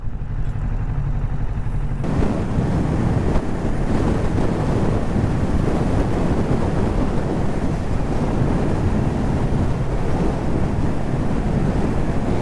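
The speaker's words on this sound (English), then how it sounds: "hopefully this wind's not too strong and you guys can hear me pretty well" Strong, continuous wind buffets the microphone outdoors beside a Kawasaki Ninja 650 motorcycle on a bike night, a roaring low rumble that swells sharply after the first two seconds and persists loud throughout.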